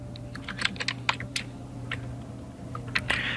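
Quick bursts of keystrokes on a computer keyboard while text is entered in a design program, close and clear with short pauses between runs of clicks.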